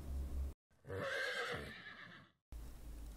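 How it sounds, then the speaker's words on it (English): A horse gives one loud, close whinny lasting about two seconds, rising and then trailing off, set between short stretches of silence. "Horse."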